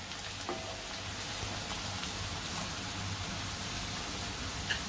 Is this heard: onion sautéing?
yes